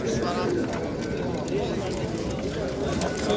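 Tumbler pigeons coo and flutter at a bustling outdoor pigeon market in Izmir, their calls mixed into a busy crowd din with people talking nearby.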